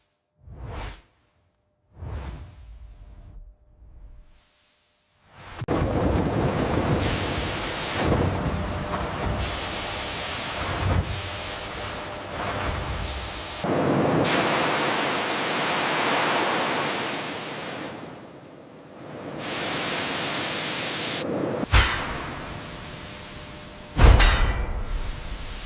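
Steam bursts from an opening Giga Press die-casting mold in a loud, sustained hissing whoosh. Shorter bursts come first, and the main hiss swells and fades in waves over many seconds.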